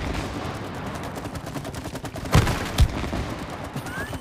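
Gunshots in the video game It Takes Two: two sharp, loud shots about half a second apart over a steady noisy game background, with no talk.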